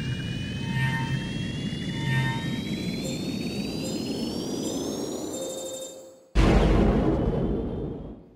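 A spacecraft in the PS1 game Registered Users Demo flies with a steady engine roar and a rising whine, cutting out for a moment before returning as a sudden loud rush that slowly fades.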